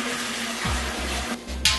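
About three gallons of water poured into an all-grain brewing vessel, a steady rushing splash with a low hum beneath, close and continuous with a brief brighter splash near the end.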